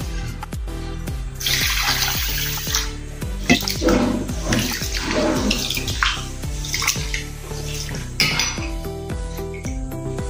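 Raw rice being washed in a vessel under running water in a home kitchen; continuous splashing and pouring mixed with repeated clinks and knocks of metal utensils, close and fairly loud, with no speech.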